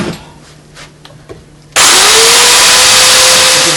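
A power saw starts up after a few quiet handling knocks, then runs loud and steady as it cuts a curve in yew or ash chair wood, its whine holding a sustained pitch close at hand.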